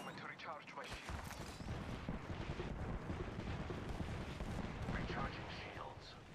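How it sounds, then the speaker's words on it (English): Sustained gunfire fills a video game shooter firefight, dense bursts and booming shots running the whole time, loud and close, with a voice speaking underneath. "Getting shot at. Shots fired at me."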